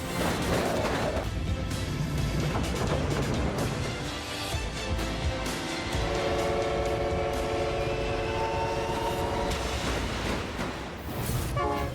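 A loud, steady rumble of the Ghan passenger train in the Australian outback fills the whole stretch, with sustained tonal hum and rattling throughout, no voices.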